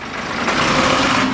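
An old rusty Fiat 640 bus engine rumbles close up, a loud, rough and steady roar that swells slightly over a brief moment, with no voices over it.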